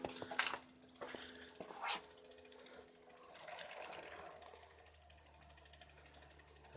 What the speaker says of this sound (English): I shall tighten those bolts up